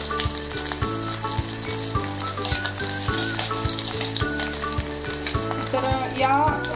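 Garlic, cumin, asafoetida and turmeric tempering sizzles steadily in hot oil for a traditional Maharashtrian katachi amti, a loud, continuous crackle running unbroken through the whole stretch.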